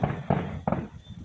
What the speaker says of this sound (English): people are try all fireworks on display.